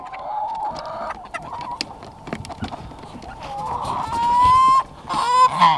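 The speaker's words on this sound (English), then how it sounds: "There's a goose." A goose on a farm on a cold morning honks repeatedly, loud and close, amid clucking chickens and other barnyard fowl, with honks growing stronger toward the end.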